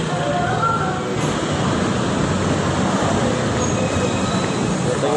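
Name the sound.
street traffic noise outside Robinson Galleria mall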